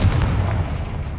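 A Confringo fire spell blasting in Hogwarts Legacy, a short booming burst with a dense low rumble that decays quickly, loud and close with no talk over it.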